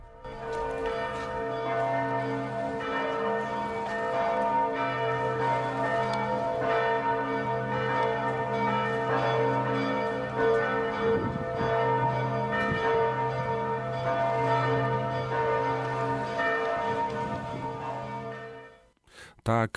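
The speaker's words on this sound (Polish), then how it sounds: "brzmiały dzwony tutaj w Lwowie w katedrze łacińskiej w mieście zawsze wiernym" Large church bells of the Latin Cathedral in Lviv peal continuously, deep resonant tones overlapping and ringing out loudly for a long stretch before fading at the end.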